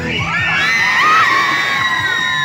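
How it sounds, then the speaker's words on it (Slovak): A large crowd in Trenčín cheers and shouts continuously, with children's high voices and whoops layered into a loud, sustained roar. "počul si ten jasot?"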